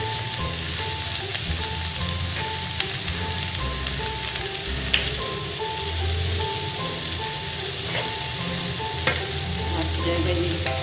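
Onion and garlic sizzle steadily in hot oil in a pan, a dense continuous crackle with occasional stirring scrapes, close and even throughout with no talk.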